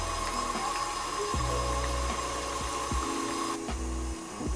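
Stand mixer fitted with a whisk attachment running on medium speed, making a steady loud motor whir with rhythmic drops in pitch as the whisk turns, close by and alone with no talk.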